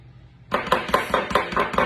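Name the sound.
hummus being scooped from a food processor into a serving bowl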